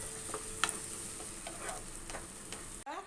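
A ginger, garlic and tomato paste sautés in a pan, making a faint, steady sizzle with light, irregular stirring scrapes and taps, cut off by a brief rustle at the end.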